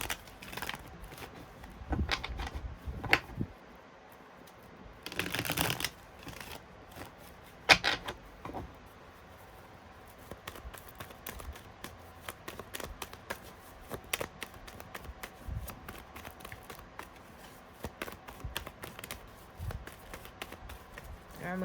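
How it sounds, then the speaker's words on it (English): Tarot cards being shuffled and handled near the microphone, soft riffling, slapping and tapping of the deck in irregular bursts over a quiet room. "I'm going to cut the deck in 3"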